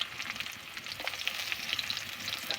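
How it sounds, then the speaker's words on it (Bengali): Onions tossed into garlic and ginger already fried to a reddish brown give a steady close sizzle with crackling spits and scraping stirs, with no talk. "পেঁয়াজটা দিয়ে আমি খুব ভালো মতো করে পেঁয়াজ আদা রসুন আমি এইভাবে কষিয়ে নেব"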